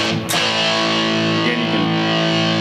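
Electric guitar run through a British-style amp model with a dirty, distorted tone on an iRiffPort digital guitar interface, a single sustained chord ringing loud and dense after a sharp pick attack, with no talking.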